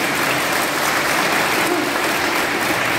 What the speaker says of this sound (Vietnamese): Xin công đoàn một tràng pháo tay nữa.